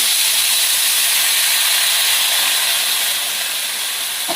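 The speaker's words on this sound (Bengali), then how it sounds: "এখন দিয়ে দেওয়া হচ্ছে জল।" Water poured into a hot pan while cooking masala hilsa fish curry, giving a loud, steady hiss of steam that fades slightly toward the end.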